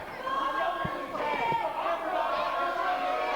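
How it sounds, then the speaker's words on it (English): A wrestling arena crowd at an NWA Wildside show murmurs and jeers in a restless, rising din, with a couple of sharp thuds and voices breaking through the rumble. "The crowd seems to be a wee bit upset at Andrew Thomas"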